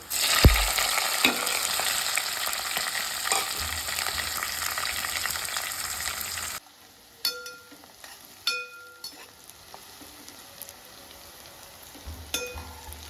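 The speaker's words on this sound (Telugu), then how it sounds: "ఉల్లిపాయ ముక్కలు పచ్చిమిరకాయ ముక్కలు ఈ పోపు ఏగుతుంది కదండి" Onions and green chillies hiss loudly in hot oil for a tempering, a dense steady sizzle that abruptly drops to a quieter crackle punctuated by a few metallic clinks of a spoon against the pan.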